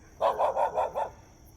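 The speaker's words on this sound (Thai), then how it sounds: "หมาเห่าครับ" A dog barks five times in a quick, even run, fairly close and clear against a quiet background, with no one talking.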